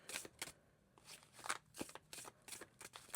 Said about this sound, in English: it's hard to shuffle the cards with that ring moving around